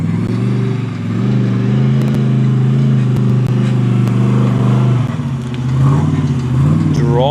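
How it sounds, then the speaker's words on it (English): Old Jeep engine at a rock-crawling event, a loud close rumbling drone that holds steady and then revs upward, with no talking over it. "Driving the old Jeep."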